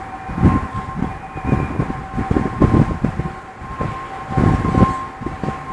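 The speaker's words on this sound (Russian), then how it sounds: "Вот шумит Москва." City noise of Moscow near the Kremlin, Moscow-City, with a steady, high siren-like tone sustained over a rumbling, pulsing wash of traffic and clatter, fairly loud and continuous, with no talk.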